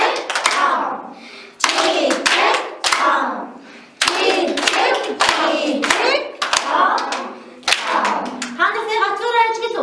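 Kindergarten children clap their hands together in a steady rhythmic pattern, loud and close, in repeated bursts with short pauses, with voices chanting or calling out alongside and a brief sung tone near the end.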